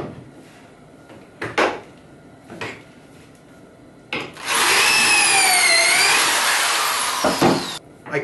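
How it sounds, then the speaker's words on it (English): A power drill whirs in a long, loud burst with changing pitch as it bites into wood, drilling pocket holes in a kitchen cabinet, preceded by a few short knocks and clatters. "I completed drilling the holes in both sides of the cabinet."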